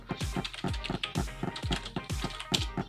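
Rapid keystrokes on a computer keyboard clatter in quick, uneven bursts, close and crisp, with no voices over them.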